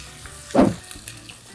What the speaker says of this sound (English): I'm just gonna add all of this chorizo to the pan